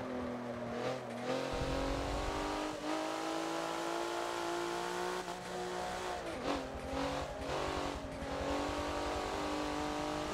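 A race car in the Forza video game roars continuously through a corner on the Hockenheimring short track, its steady engine drone dipping and rising as the throttle lifts and comes back on.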